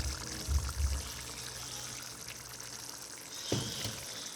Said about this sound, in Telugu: ఆ పులుసుని మనం దీంట్లోకి అయితే వేసుకుందాం.